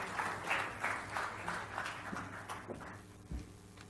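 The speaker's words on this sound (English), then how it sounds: "let's give a round of applause and let's welcome Sapna back on stage." An audience applauds at the 9th Realty Plus Excellence Awards with rhythmic, moderately faint clapping that slowly tapers off, ending with a single thump.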